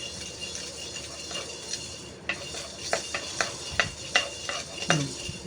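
Fenugreek seeds dry roasting in a pan while a metal spoon stirs them, producing a quiet rattle and a series of sharp clinks and scrapes that grow more frequent toward the end.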